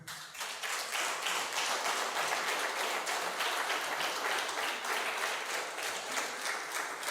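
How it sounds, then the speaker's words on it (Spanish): Sustained applause from a church congregation at a morning service, dense and steady clapping filling the room from start to finish. "Dele un aplauso al Señor esta mañana"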